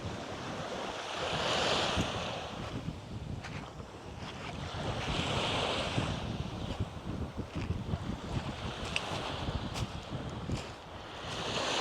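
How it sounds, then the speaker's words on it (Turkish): Steady wind gusting at Ilgın Cove near Bodrum, Turkey, with waves washing in beneath it and rumbling wind buffeting the microphone; no voices. "Bugün oldukça rüzgarlı bir hava var."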